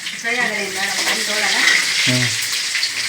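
Food sizzles steadily in a hot pan on medium heat with a bright continuous frying hiss, while a voice talks over it.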